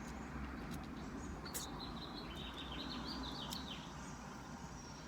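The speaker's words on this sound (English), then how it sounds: "Can you hear all the birds? Oh, they're singing away." Small birds chirp and trill outdoors in the afternoon, faint scattered calls over a steady hiss of background noise, with no one talking.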